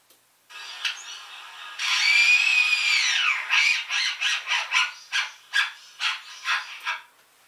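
A lyrebird mimicking a power drill: a sustained whining tone that rises and falls, followed by a rapid series of short buzzing bursts, fairly loud and alone.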